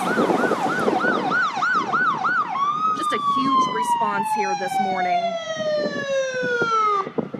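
Wailing fire truck and ambulance sirens at a large fire at a former steel site, one sweeping rapidly then a long steady wail with a horn-like tone, loud and close, with someone talking over them.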